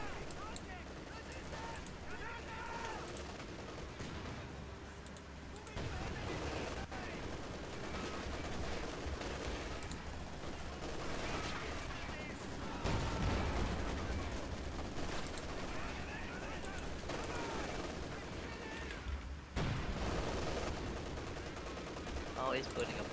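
Bombs and gunfire in Company of Heroes 2, with steady rattling bursts and heavy booms over a constant low rumble, while a person talks over the battle.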